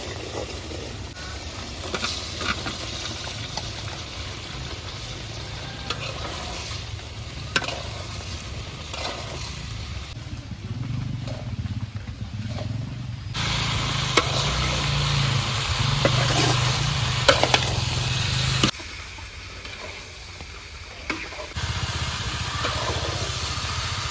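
Vegetables fry in spiced oil with chili powder in a pan over a clay stove in a village kitchen on a rainy day. A steady sizzle runs under repeated stirring scrapes and grows louder and hissier midway before easing again.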